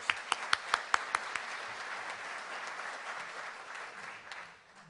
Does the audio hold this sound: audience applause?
yes